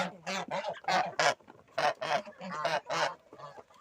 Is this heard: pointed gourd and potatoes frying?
no